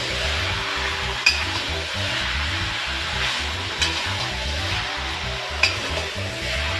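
Marinated chicken being stirred and fried in a pan for a chicken kosha: a soft continuous sizzle with a rhythmic scraping stir, plus three sharp clinks of a utensil against the pan.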